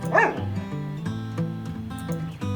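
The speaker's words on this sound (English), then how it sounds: "I love dogs. Look at the doggy." Cartoonish dog yips and whimpers from the video game Witchy Life Story, a quick cluster of high yelps up front followed by softer dog sounds over a steady game music bed, with no talking.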